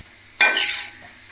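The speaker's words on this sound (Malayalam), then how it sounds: "അതിട്ട് നമുക്ക് ഇളക്കാം" A spatula stirs cooled, pre-boiled basmati rice in a hot pan for egg fried rice, one sudden scraping, sizzling sweep that fades over a second, close and alone.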